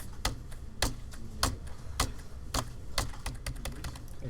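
Computer keyboard key presses while testing a Pong-style game written in Turing: a string of distinct, sharp clicks at an irregular typing rhythm over faint background noise, with no talking.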